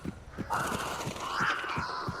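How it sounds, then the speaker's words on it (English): Crows caw in a video game, a drawn-out rising and falling call that carries through most of the moment, over a steady pattern of soft low thumps. "Birds."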